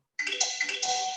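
A mobile phone rings in a classroom during a lecture, a short bright electronic ringtone melody heard alone and close.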